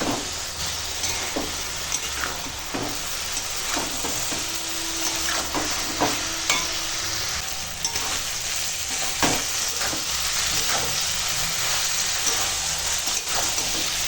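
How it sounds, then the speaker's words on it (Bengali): Fried fish swim bladder sautés with watery snake gourd in a pan, a steady close sizzle with frequent scraping stir strokes through the whole stretch, no talking. "এখন এই ভেজে রাখা পটকা দিয়ে দিলাম একসঙ্গে এবার কষাই একটু"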